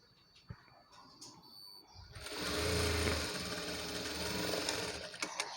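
Sewing machine running steadily as it stitches the joints of lining cloth for a saree-made umbrella frock, a continuous close whirr that starts after a couple of seconds of quiet handling noises.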